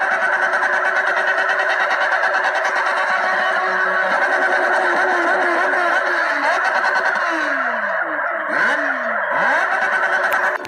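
A modified motorcycle, a Yamaha R1 in GTA San Andreas multiplayer on Android, roars with a steady loud engine drone, then several sharp revs rise and fall in quick succession near the end.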